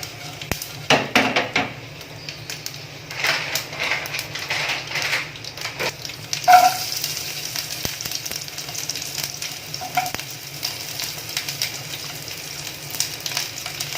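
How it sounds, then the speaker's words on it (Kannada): Peppers frying in a pan, with a soft continuous sizzle under repeated clinks and scrapes of a utensil against the pan, fairly close. "ಚೆನ್ನಾಗಿ ಫ್ರೈ ಮಾಡ್ಕೊಳ್ಬೇಕು"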